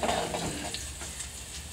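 Cumin seeds frying in a pan for potato curry, a soft steady sizzle with light stirring scrapes, faint and close, without speech.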